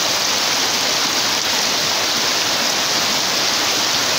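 Torrential rain pouring down amid rising floodwater, a steady loud unbroken roar of falling water and rushing flow with no pauses and no voices.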